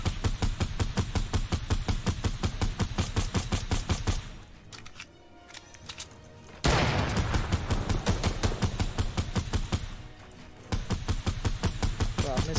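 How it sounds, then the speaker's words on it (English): An assault rifle fires in a squad video game in rapid, sustained automatic bursts. Two long runs of loud, evenly spaced shots are split by a brief quieter pause. "Every single one of my AR shots."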